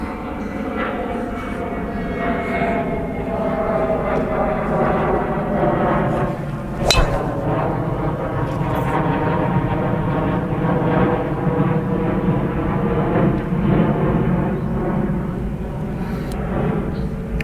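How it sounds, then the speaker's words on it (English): A plane drones overhead above a windy golf practice area, a loud, steady engine hum that holds for the whole stretch, broken once by a sharp click. "The spy plane's back."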